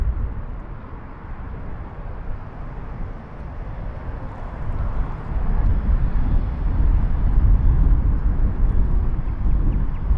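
Sydney Airport, an A380 airliner taxiing: a steady low jet rumble with broadband roar that swells slightly halfway through, fairly distant and continuous, with wind-like hiss and no talk.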